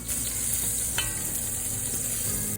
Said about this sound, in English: That's one of life's greatest noises right there, that sizzle.